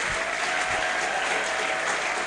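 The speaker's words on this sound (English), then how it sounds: "let's clap for GIA for this wonderful" Steady audience applause from a seated crowd at a heritage event, dense and continuous clapping throughout at an even level, with no speech over it.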